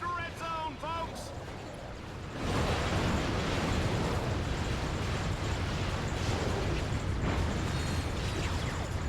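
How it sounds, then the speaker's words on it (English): Explosions and gunfire from the game Ratchet: Gladiator: a sudden loud burst near the start swells into a dense, continuous roar of blasts and shooting that carries on to the end, with a little voice overlaid early on. "Oh, the explosion, the gunfire, the carnage."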